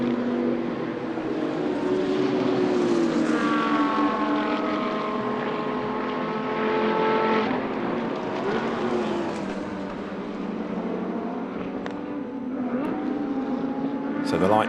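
GT2 race cars, a KTM and a Lamborghini, racing at Paul Ricard, their engines droning loud and steady with rising and falling pitch sweeps as they pass, under a commentator's continuous talk.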